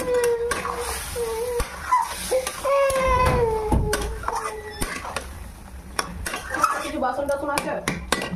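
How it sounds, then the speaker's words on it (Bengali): Spiced food being sautéed (kosha) in a pan with chili and a little salt, a spatula clattering and scraping against the metal in steady strokes, with a voice whining in the background. "কষা হচ্ছে"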